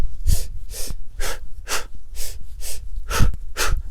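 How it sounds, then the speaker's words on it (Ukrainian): Someone breathes hard while running in place, sharp rhythmic inhales and exhales repeating in pairs about twice per second, close and loud with no talking. "Біжіть на місці і дихайте."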